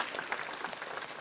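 Audience applause greeting the chief minister at the inauguration of an arts and skills exhibition for disabled people, a steady dense clapping that runs through the whole short moment at moderate loudness.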